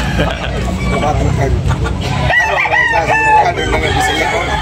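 A rooster crows loudly and close at a chicken market, with clucking fowl and a murmur of people talking in the background.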